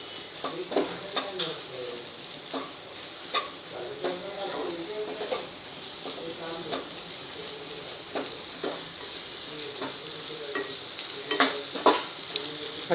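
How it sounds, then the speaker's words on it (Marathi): Ginger garlic paste is stirred into onions frying in a pan for carrot sabzi, giving a steady soft sizzle with repeated scraping strokes of the spoon, fairly quiet and close. "छान मिक्स करून घेऊया कांद्यात."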